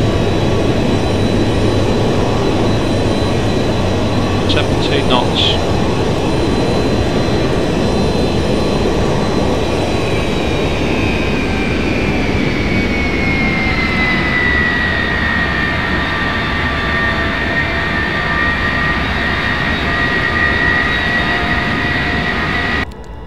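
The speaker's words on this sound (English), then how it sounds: "Spoilers deployed. Reverse thrust deployed. 70 knots." Boeing 707 jet engines roar loudly in reverse thrust during the landing rollout in a flight simulator game, a steady broadband rumble with a rising whine that slowly winds down, continuous throughout.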